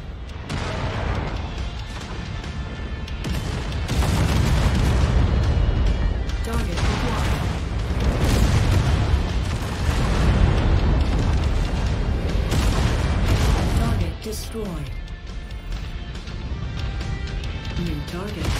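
Heavy booming explosions from mechs being destroyed in the MechWarrior 5 video game, a loud continuous rumble of blasts across the whole stretch, with a radio-style voice speaking over part of it.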